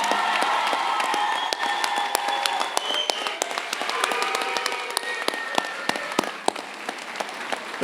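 Graduation ceremony audience applauding a student speaker, dense sustained clapping with sharp individual claps standing out close by, some scattered cheers, continuing for about eight seconds.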